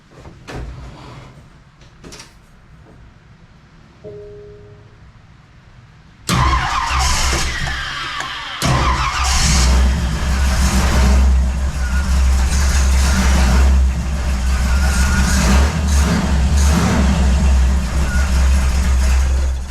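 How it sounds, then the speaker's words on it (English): A car engine fitted with a Holley double pumper carburetor sits quietly and then starts up, settling into a loud, steady, rumbling idle close by, with a few clanks and a door-like knock, and no talking. "I think I'm going to turn up the idle speed just a tad"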